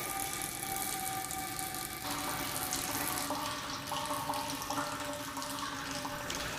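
Water running steadily from the outlet of a constant head permeameter into a catcher, a continuous even trickle and hiss with a faint tonal hum, and no voices.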